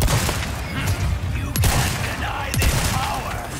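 Gunfire crackles through a boss fight in Resident Evil 4 Remake, with two sharp shots standing out over a busy backdrop of game noise and effects.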